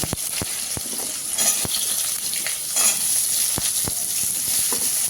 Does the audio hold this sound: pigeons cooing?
no